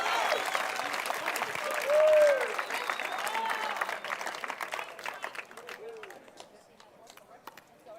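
Crowd applause and cheering at a championship pickleball match, a steady broadband wash of clapping lasting several seconds and gradually thinning, with voices audible through it.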